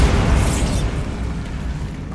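A Bombarda spell blast in Hogwarts Legacy: one loud, close boom with a bright burst at the start that rolls off into a fading rumble over about two seconds.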